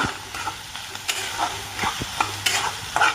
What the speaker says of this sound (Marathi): तुम्हाला नुसता लसूण आवडत असेल तर लसूण सुद्धा नुसता वापरू शकता छान असं परतून घ्यायचं